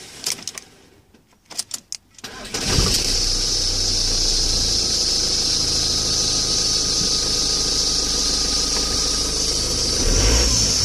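A Ford Transit van with a fault that keeps it from starting: a few clicks and rattles, then a loud sustained starter whirring and grinding with a high squeal for several seconds, close by, with no talking.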